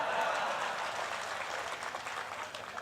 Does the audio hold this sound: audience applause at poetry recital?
yes